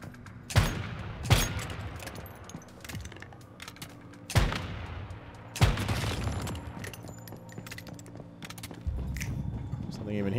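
Gunfire from the video game Once Human, several sharp loud shots at irregular intervals over a steady game soundscape.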